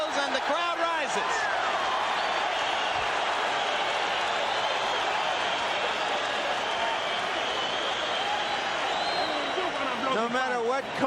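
A boxing crowd at the Arturo Gatti vs Tracy Harris Patterson IBF world super featherweight title fight rises and applauds as round 10 ends, a dense, continuous roar and clapping that fills the whole stretch at steady loudness.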